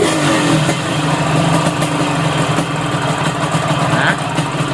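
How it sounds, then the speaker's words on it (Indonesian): A carbureted motorcycle engine running loud and close, rough idle with small throttle blips and revs while the carburetor is being adjusted. "Kita hidupkan lagi motornya."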